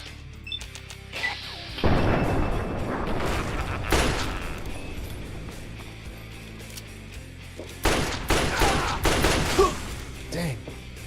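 Gunfire and booming blasts in the video game Fallout 3, with repeated bursts and heavy hits over about ten seconds while a player talks now and then.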